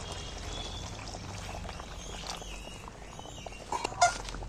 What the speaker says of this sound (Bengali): আমি একটু সামান্য করে জল দিচ্ছি।